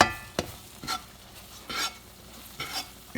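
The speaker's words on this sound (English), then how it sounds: "I'm going to go ahead and stir these around as I let them fry" Refried beans being stirred as they fry in a pan, with the sizzle running underneath and about five distinct scraping strokes of a spoon at an irregular rhythm, close up and with no talk.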